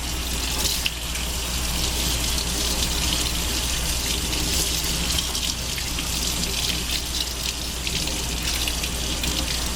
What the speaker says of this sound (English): Once you're done washing your hands, you should still leave the water running